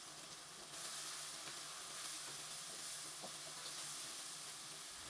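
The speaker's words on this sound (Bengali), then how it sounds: "পেঁয়াজ বাটা নেড়ে চেড়ে হালকা ভেজে নিব।" Onion paste fries gently in a pan for a duck curry, a soft, even sizzle and hiss with faint stirring scrapes, quiet and continuous.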